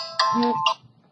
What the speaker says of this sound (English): That was my alarm to remind me to take my lunch pills